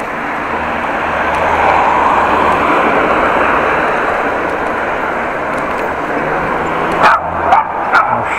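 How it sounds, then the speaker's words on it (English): A dog barks in a few sharp yips near the end, cutting through steady street and traffic noise while walking along the Korreweg in Groningen. "Oh, shut up, stupid dog."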